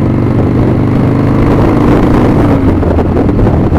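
A 1997 Harley-Davidson Springer Softail motorcycle engine runs steadily and loud up close, with a deep continuous rumble and wind buffeting throughout, and no talking over it.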